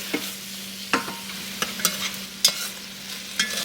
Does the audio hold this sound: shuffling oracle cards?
no